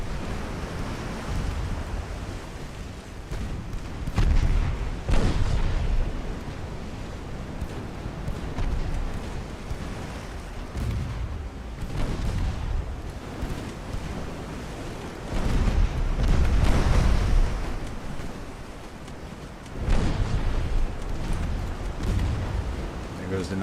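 Warship guns boom in the naval game Ultimate Admiral: Dreadnoughts, heavy low blasts arriving every few seconds over a constant roar of sea and wind, with someone talking at intervals.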